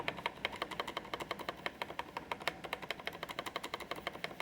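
Rapid clacking bursts of typing on a mechanical keyboard fitted with jailhouse-modded Outemu blue switches and a modified spacebar, a steady run of crisp, close keystrokes with no voice.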